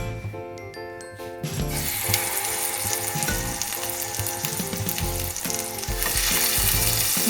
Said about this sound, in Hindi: अब हम अपने चिकन को फ्राई करेंगे।